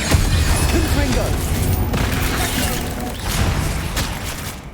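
Confringo blasting spell explosions in Hogwarts Legacy, a loud crackling barrage of booms and impacts amid constant combat noise, with a voice shouting over it.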